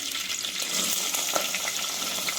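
Green chillies sizzle in hot oil for a Karnataka-style vegetable rava upma, a steady, close frying hiss with small crackles and spits throughout, no voices.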